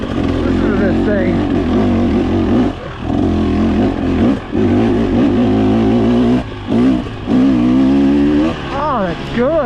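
A 2023 300cc race-tuned motorcycle revving hard on track tests, loud rising and falling engine howl through several gear changes with brief drops between pulls, close and dominant.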